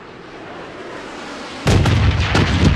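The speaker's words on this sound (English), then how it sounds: "Missile bombardment on its way!" Missile bombardment in the video game Project BloodStrike: after a quiet ambient bed, a sudden loud, heavy explosive burst erupts and rumbles on with further booming impacts, close and dominant.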